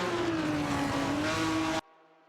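Classic race cars in the racing game Live for Speed roar past with a steady engine tone, one car's pitch sliding slowly downward, then cutting off abruptly into near silence.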